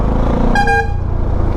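A single short car horn honk sounds amid steady, rumbling road traffic during a congested ride in Kerala, with engine noise continuing underneath.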